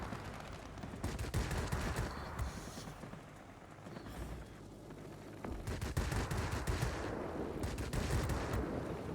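Aircraft machine guns firing in World of Warplanes, rapid bursts of rattling gunfire over a steady engine drone, with a short lull in the middle before firing resumes, loud and continuous.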